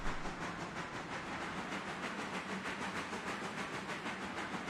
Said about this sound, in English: passenger train is headed out of Ella